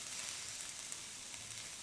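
Mushrooms wrapped in totomoxtle corn husks cooking in a frying pan, a soft, even sizzle and crackle heard close and quiet, continuing unbroken with no voices.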